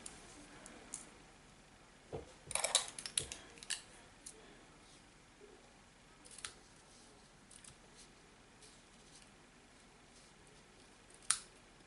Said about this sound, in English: they're my ribbon scissors, so they don't get used for anything else